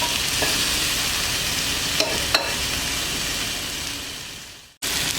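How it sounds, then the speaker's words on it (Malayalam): Steady close sizzle of tomatoes frying in a pan with onions, garlic, ginger, pepper and green chilli for a lamb liver roast, with a couple of soft utensil knocks and a brief cut near the end. "ഇനി ഇതിലേക്ക് നമുക്ക് തക്കാളി ഇട്ട് കൊടുക്കാം."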